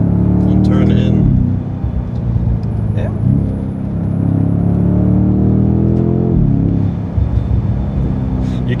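A heavy BMW M5 sedan driving along Black Forest roads, its engine droning steadily with pitch sweeps as it accelerates and shifts, loud and close from inside the car, with a few faint clicks on top.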